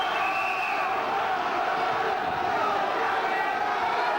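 A boxing crowd at the Johnny Armour vs Francis Ampofo fight roars and cheers in a dense, steady wash of noise that holds at full strength from start to finish, with no clear breaks.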